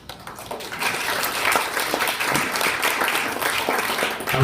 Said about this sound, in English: I wish I got claps every time I taught a class when I came in.